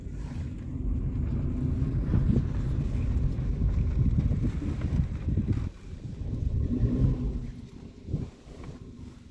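Their own vehicle rolls along with a low, rumbling engine drone and gusts of wind buffeting the microphone, steady with a brief dip partway through.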